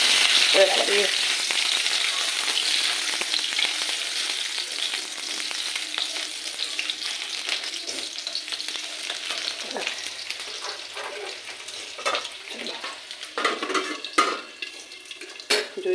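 Potato frying in a pan alongside fish that has already been fried, giving a steady close sizzle with bursts of crackle, plus occasional scrapes and clinks of a utensil against the pan.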